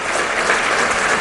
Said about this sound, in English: Let's clap and welcome our chief guest for the evening, Mr. Gautam Chatterjee.